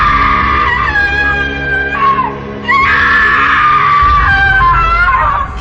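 A woman screams loudly as a ghost story sound effect, with two long, piercing wailing cries separated by a brief break, very loud and close with no talking.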